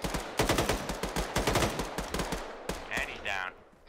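Bursts of rapid gunfire crackle through a war simulation video game, several uneven volleys of close shots followed by a couple of brief sharper tones and a trailing quiet.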